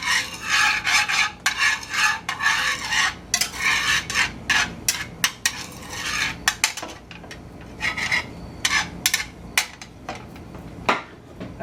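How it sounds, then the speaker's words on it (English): A whisk scrapes and rubs repeatedly against a pan, stirring lemon juice and minced garlic into a cream sauce, in quick irregular strokes with short pauses, close up and without talk. "I'm just going to whisk that in"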